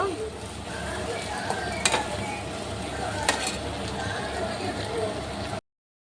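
Tomato, onion, green and dried chillies frying in a pan for a chicken pepper gravy, a dense continuous sizzle with two sharp stirring clicks, ending abruptly.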